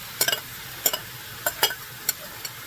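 Mushrooms, onions and beef in a cast iron skillet over low heat, heard as a faint sizzle broken by sharp, clicking scrapes of stirring at irregular intervals, with no voices.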